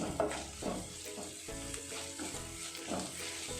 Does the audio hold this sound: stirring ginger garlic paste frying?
yes